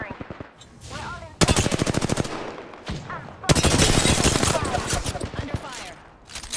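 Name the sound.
gunfire in Apex Legends video game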